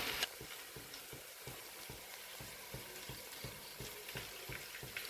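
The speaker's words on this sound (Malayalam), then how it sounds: "ഉള്ളി അത്യാവശ്യം മൂത്ത് വന്നിട്ടുണ്ട് അപ്പോൾ ഇതിലേക്ക് നമുക്ക് നമ്മൾ കഴുകി വെച്ചിരുന്ന ഞണ്ടിട്ട് കൊടുക്കാം" Crab frying with onions in a pan for crab curry, a soft, steady sizzle with regular stirring scrapes pulsing through it, with no voices.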